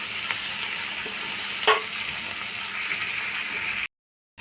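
Eggs with chili and black pepper fry in a pan with a steady close sizzle, one brief louder crackle burst midway, then the sound cuts to silence near the end.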